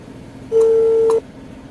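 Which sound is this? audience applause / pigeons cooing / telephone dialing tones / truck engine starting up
telephone dialing tones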